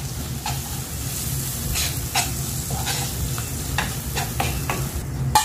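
Chopped tomatoes with salt frying in a pan, a steady close sizzle with occasional stirring scrapes and clicks, no talking.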